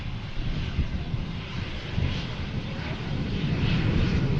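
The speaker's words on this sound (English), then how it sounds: "Airbus A380 coming in from London Heathrow." An Airbus A380 airliner arriving at Manchester Airport from London Heathrow, a steady broadband engine roar with some wind buffeting on the microphone, sustained and fairly loud throughout.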